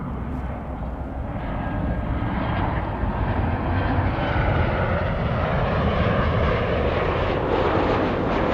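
A Boeing 737 passing at Los Angeles International Airport, a loud, steady engine roar that swells gradually as the jet moves by, with no talk over it.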